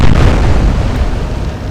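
Naval shell hits explode in Atlantic Fleet, a loud, close burst of deep booming blasts that rumble and slowly decay, with no voices.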